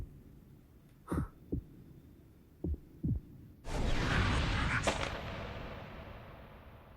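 A few deep, thudding heartbeat pulses in the Death Note anime land singly and in pairs at close range, then a sudden wash of broad noise swells and slowly fades.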